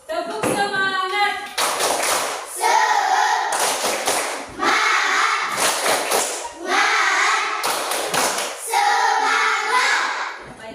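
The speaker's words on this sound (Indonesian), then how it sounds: "Tepuk semangat." A standing classroom performs a rhythmic spirit-clap routine, with sharp bursts of synchronized clapping and thumps alternating with brief shouted chants from the group, loud and close in a patterned sequence.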